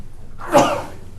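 A single sharp sneeze bursts out after a moment of near silence, close and fairly loud, with a short breathy tail.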